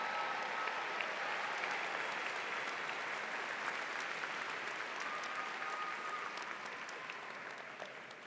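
Sustained applause fills a 2024 undergraduate commencement ceremony as Bachelor of Fine Arts graduates are congratulated, a dense, even wash of clapping from a large audience that slowly tapers off toward the end.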